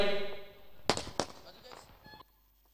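Fireworks set off beside a stage to welcome guests at a night tournament event: two sharp bangs a moment apart, following a voice on a loudspeaker, then fading crackle.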